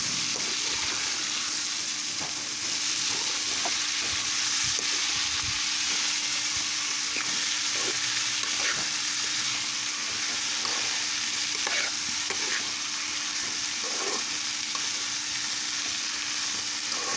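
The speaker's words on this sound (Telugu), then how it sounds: "గోరుచిక్కులు ఈ విధంగా వేసిన తర్వాత మొత్తం పోపు అంతా కలిసే విధంగా గరిటెతో నీట్గా కలుపుకోవాలి." Boiled cluster beans fry in a pan while a ladle stirs them through the tempering, giving a steady close sizzle with scraping strokes for the whole stretch and no voices.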